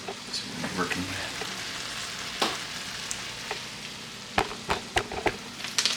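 Seasoning stirred into food frying in a pan, a steady sizzle broken by clinks and scrapes of mixing that grow busier toward the end.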